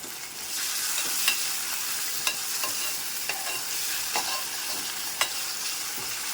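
Onions and tomatoes sauté in a pan under a dense, even sizzle. A spoon stirs them with repeated sharp scrapes and knocks at irregular intervals, heard up close.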